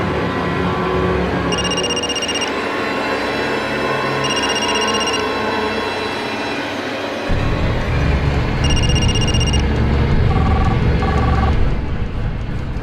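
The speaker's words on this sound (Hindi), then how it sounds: "ये फोन क्यों नहीं उठा रही है?" A phone rings repeatedly, with bursts of electronic tones spaced a few seconds apart and nobody picking up, while a low engine-like rumble plays underneath.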